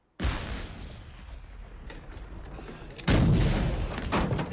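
Ship's cannons fire in a period sea drama: two heavy booms, one at the start and one near the middle, each followed by a long rolling rumble, loud and close, with no talk.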